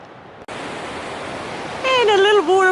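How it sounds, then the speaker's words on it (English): Steady broadband rush of a small waterfall on the Pacific Crest Trail near Seldon Pass, close and continuous, with a voice speaking over it toward the end. "And a little waterfall as well."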